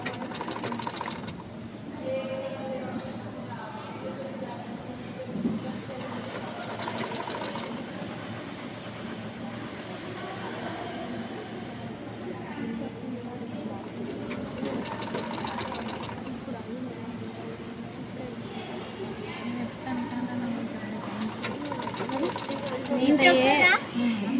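Sewing machine stitching a skirt, a continuous close mechanical whir with rapid needle rattle that runs throughout, while a person talks over it.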